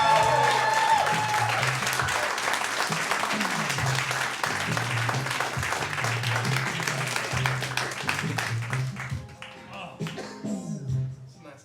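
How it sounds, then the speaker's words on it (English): An audience applauds a guest artist and muralist at a live talk-show taping, steady clapping throughout with a rhythmic musical beat underneath, the applause thinning near the end. "give a round of applause for Hakeem Colwood"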